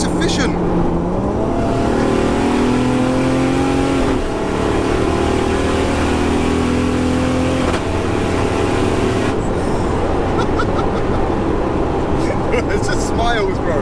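A Toyota Supra MK4 fitted with a ZF8 eight-speed automatic gearbox and a small turbo accelerates hard, its engine climbing in pitch through several quick, crisp upshifts, loud and close, with people talking over it.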